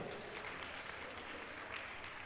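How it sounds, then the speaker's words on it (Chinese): Applause from a seated audience at an insurance agents' closing event in Malaysia, dense continuous clapping heard from a distance, steady and fairly quiet throughout. "俾掌声欧斯"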